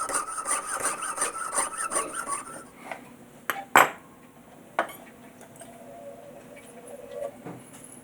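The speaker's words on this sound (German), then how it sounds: "So, jetzt feilen wir das nach." Rhythmic rasping strokes of a file scrape a metal wristwatch part at a steady pace, then give way to a few sharp knocks and scattered scraping.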